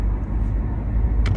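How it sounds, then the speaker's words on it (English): Car driving, heard from inside the cabin: a steady low rumble of road and engine noise throughout, moderately loud with no talking. "I'm still able to drive. I'm driving right now."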